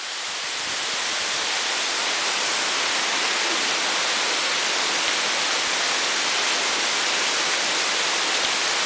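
A waterfall roars as a dense, steady rush of falling water. The sound is broad and continuous, close and loud, and there are no voices.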